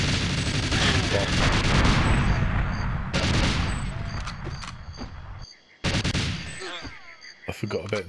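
Automated gun turrets fire in the Goldeneye remaster, a loud sustained rattle of rapid shots that cuts out briefly and then resumes in short sharp bursts.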